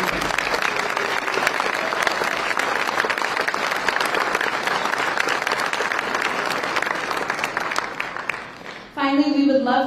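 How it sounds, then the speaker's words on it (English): Sustained audience applause for appointed officials and government staff at a Raleigh civic leaders event, a dense, steady wash of clapping lasting nearly ten seconds before cutting off abruptly. "please stand and be recognized so we can give you a round of applause"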